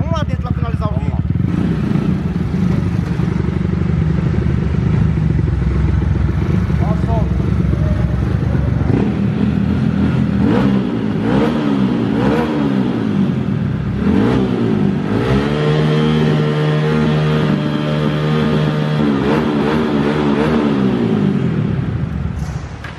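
A Honda Titan 160 motorcycle fitted with a 225cc piston kit revs hard in a workshop, its engine climbing and falling through repeated loud throttle blips and sustained high revs, close to the microphone.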